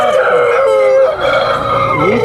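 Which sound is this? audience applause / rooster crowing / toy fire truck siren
rooster crowing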